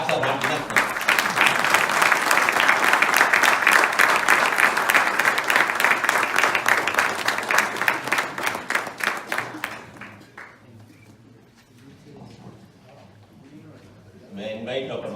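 A crowd claps loud and steady at a Retina Hall of Fame award felicitation, a sustained wash of applause that thins and fades around the tenth second, leaving a quieter room with faint sounds before a short rise at the end.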